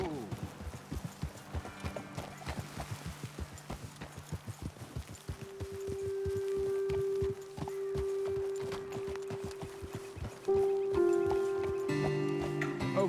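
Horses from Red Dead Redemption 2 walking with steady clip-clopping hooves, close and rhythmic, slowing toward the end as a horse whinnies; a voice speaks over the hoofbeats.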